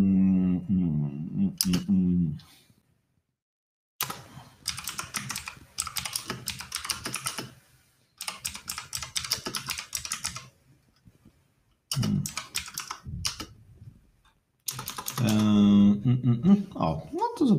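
Bursts of typing on a computer keyboard come in several separate stretches of rapid, close key clicks, broken by silent gaps, with someone speaking briefly at the start and end.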